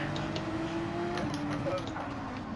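A Ferrari Gr.3 race car engine in Gran Turismo 7, a steady droning engine tone with shifting pitch as it holds revs, fairly close and continuous.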